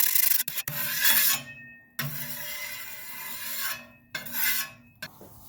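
A stainless steel grill grate on a Big Green Egg is scrubbed clean with a brush. Several rough, rasping strokes of a second or so each come in an uneven rhythm, close up.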